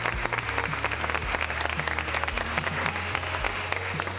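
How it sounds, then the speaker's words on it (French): Steady audience applause at a masterclass with the president of Sodexo, dense and even clapping throughout, moderately loud with no voices over it. "je pense qu'on peut l'applaudir"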